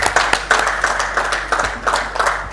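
A conference audience at a retail awards event claps for the speakers, with distinct, fairly close hand claps in an uneven rhythm rather than a full roar.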